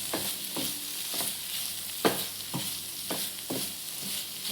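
Squid stuffing frying in a pan, stirred in a steady rhythm of about eight scraping strokes over a constant sizzle, close and fairly quiet, with one sharper knock midway.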